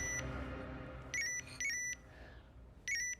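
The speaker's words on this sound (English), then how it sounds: "the sound of an alarm on her phone breaks her out of her spell" Phone alarm beeping in a Hallmark Christmas film scene, three short bursts of bright repeating beeps at moderate level, separated by pauses over faint background sound.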